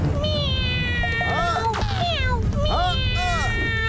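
A cartoon cat from Boonie Bears meows several times in loud, drawn-out, whiny cries, close up and fairly rapid.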